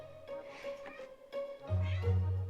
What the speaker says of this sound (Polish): O, mój kotek się odzywa